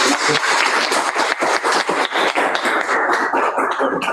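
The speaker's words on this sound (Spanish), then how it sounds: "Terminemos con un aplauso al profesor" A lecture audience applauds the professor at the close of a talk: dense, steady clapping from many hands fills the room for the whole stretch, loud and close, with no voices over it.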